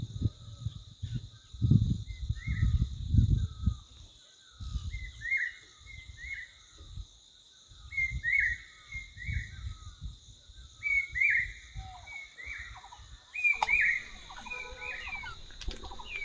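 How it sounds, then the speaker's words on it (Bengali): Small birds chirp and call repeatedly in a quiet, misty hill village at Deorali in offbeat North Bengal near Darjeeling, with a steady high insect drone and soft low rumbles beneath the clear, mid-distance calls. "দেখো পিছনে পাখির ডাকগুলো একবার শোনো।"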